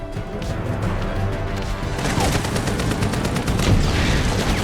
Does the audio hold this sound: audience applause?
no